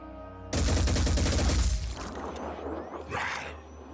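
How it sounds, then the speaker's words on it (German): Weapon fire in the squad-tactics game Phoenix Point: a dense, loud burst of rapid automatic shots starting abruptly, rattling for about a second and a half, then decaying into a rumbling tail with a second softer impact near the end. "So, und dann schießen wir mit der hier rein."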